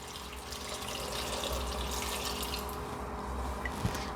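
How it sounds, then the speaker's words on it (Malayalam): Water pours steadily into a pressure cooker holding sambar ingredients with turmeric and salt, a continuous close splashing gush with a small clink near the end. "അതിനുശേഷം ഇത് വേവാൻ ആവശ്യമുള്ള വെള്ളം ഒഴിക്കാം."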